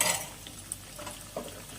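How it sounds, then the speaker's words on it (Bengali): Brief, soft scraping and light clinks of a spoon stirring drumstick curry (sojne data chorchori) in a pan, close and faint with a low background hiss. "দিয়ে একটু ভালো করে নাড়াচাড়া করে নেব"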